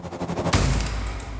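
A heavy door-slam impact used as a sound effect in an old-school death metal mix lands as one sharp, loud hit with a booming low tail, preceded by a brief quieter rhythmic texture.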